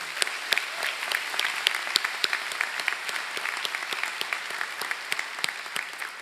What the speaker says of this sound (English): Could we give them another round of applause, please?